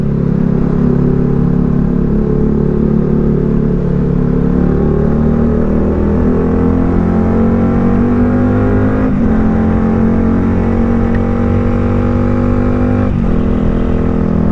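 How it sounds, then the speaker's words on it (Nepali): A Yamaha R15 V3 motorcycle engine echoes loudly inside a mountain road tunnel, a sustained close drone whose pitch slowly sweeps and shifts through the gears with no talk over it. "टनेल आयो भनेपछि बाइकको साउन्ड पनि आयो।"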